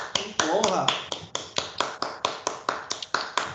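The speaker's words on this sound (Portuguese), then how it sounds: "saudar o companheiro Rafael aí com a nossa salva de palmas" Rhythmic clapping from video call participants, a steady train of sharp, close claps at a regular pace, with a voice briefly talking underneath near the start.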